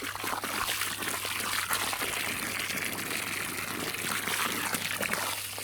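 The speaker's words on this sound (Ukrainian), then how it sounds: "Отак ось проливаємо землю." Water pours onto soil around a newly planted peach tree, a steady close trickling and splashing stream that runs continuously throughout, with a faint low hum beneath.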